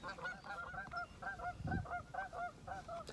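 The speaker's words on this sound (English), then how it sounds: "Canadian geese are obnoxiously loud." A flock of Canada geese honks repeatedly in quick overlapping calls, fairly distant and faint.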